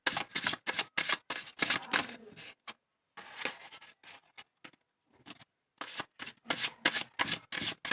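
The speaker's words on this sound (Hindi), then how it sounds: "और मैं थोड़ी-सी और कार्ड्स निकालती हूँ" Tarot cards are drawn and shuffled in close, crisp bursts of riffling and flicking, separated by brief pauses of near silence.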